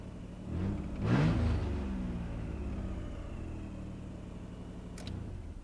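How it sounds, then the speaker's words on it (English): A Nissan Z31 engine idles with leaking exhaust, a steady close low rumble that swells briefly near the start, then settles into an even drone with no talk. "Oh, I gotta fix those exhaust leaks."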